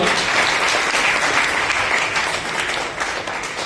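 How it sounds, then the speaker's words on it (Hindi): An audience claps during a magic show at a public meeting in Bihar, a dense, sustained round of applause from a crowd that holds steady and then eases off slightly. "थोड़ा ताली बजा दीजिए आप लोग।"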